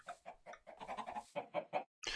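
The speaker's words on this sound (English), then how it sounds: "Oh, there's actually a handful of chickens here." A chicken clucks in a quick, choppy run of short notes in Minecraft, close and fairly quiet, ending with a brief squawk.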